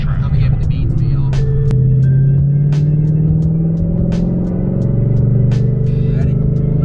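A Ford Mustang with an MT82 manual gearbox revs hard and accelerates, its engine note climbing steadily and loud, with sharp clicks and a voice briefly heard over the rumble.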